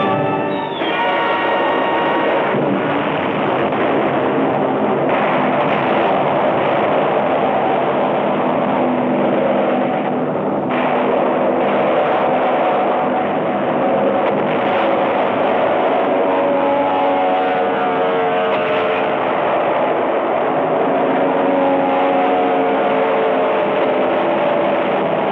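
Aircraft engines drone in a muffled, continuous roar in an old Hollywood war film about Japanese land-based fighters and bombers, with dense rumbling that never lets up.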